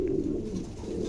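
Pigeons of a high-quality breeding pair coo in a low, continuous murmur, close by and steady throughout with no talk.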